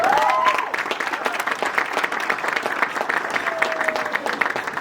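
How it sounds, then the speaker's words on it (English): Steady, full applause from a banquet audience, a dense crowd clapping continuously throughout at close range, with a few faint voices and whistles mixed in. "So give them a round of applause."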